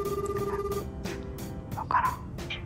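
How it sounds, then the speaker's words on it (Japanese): Telephone ringing during a call: repeated bursts of ringing tone with short gaps, moderately loud, with faint background noise and no talk over it. "ぼちぼち、リュウジ電話してみよう"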